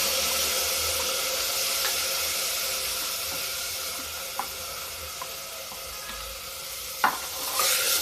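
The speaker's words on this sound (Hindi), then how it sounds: "अब इसमें जो मैंने दाल धुल के रखी है इसको भी डाल के फ्राई कर देंगे।" Washed lentils fry in hot oil with fennel seeds over a low gas flame, producing a constant dense sizzle with a few faint clinks and a louder clatter near the end.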